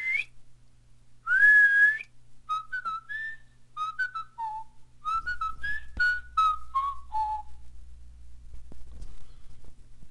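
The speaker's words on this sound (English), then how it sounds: "all you have to do is give a good whistle into the room that you're in" A person whistles indoors to make a phone-locator app go off, giving a series of clear, close whistled notes in short bursts. A low steady hum runs underneath toward the end.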